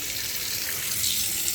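Water runs steadily from a tap, a constant broadband hiss with no pauses, at a cooking spot where jerk chicken is being prepared.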